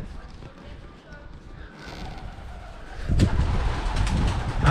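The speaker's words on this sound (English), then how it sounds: "There's loads of pigeons in here." Pigeons coo in a wetland area near a beach, soft repeated calls layered over steady outdoor noise and a voice, growing busier and louder toward the end.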